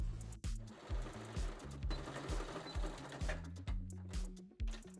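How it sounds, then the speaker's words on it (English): Sewing machine stitching a blue and white cuff onto a flannel sleeve, close rhythmic mechanical chugging in quick bursts with short pauses between runs. "pinned the blue and white cuff to the sleeve and sewed it on"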